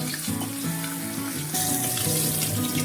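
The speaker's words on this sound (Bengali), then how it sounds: "একটু এই পিঠটা হয়েছে, এই পিঠটা অল্প করেই ভেজে নিচ্ছি" Koi fish frying in oil in a pan, a steady dense sizzle with bubbling crackle that holds throughout and swells louder partway through.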